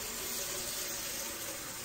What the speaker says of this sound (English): And I fill this with the cold water.